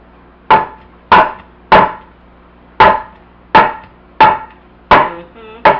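A small cake pan holding caramel apple cake batter is rapped on a kitchen counter several times to knock out air bubbles, giving sharp, loud knocks with short ringing tails at an uneven rhythm, with no voices.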